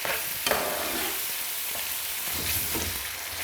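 Curry being stirred in a hot pan, a steady scraping and sizzling of the spiced orangey-red mixture with a few sharper clinks of the spoon, close and continuous with no talk.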